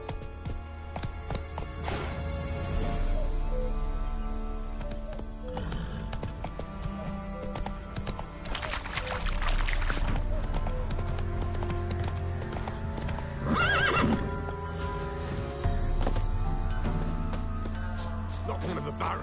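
Roach the horse in The Witcher 3, hooves clip-clopping at a steady gallop with occasional neighs, mixed under busy game music and ambience.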